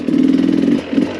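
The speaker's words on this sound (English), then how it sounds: "Just using my engine braking on those downhills" A dirt motorcycle descends a rocky downhill trail on engine braking, its engine giving a loud, close, throbbing drone that eases briefly and then picks up again.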